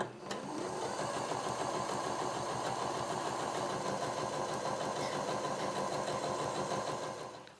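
A sewing machine stitching a quarter-inch seam on quilt fabric pieces, a steady, close mechanical whir with a fast regular needle rhythm running without pause for several seconds before stopping.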